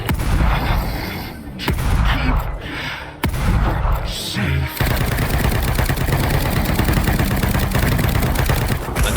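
Sustained gunfire from The Evil Within 2, a survival horror video game: loud rapid automatic bursts and heavy booms that fill the whole stretch, with brief gaps, under a game soundtrack.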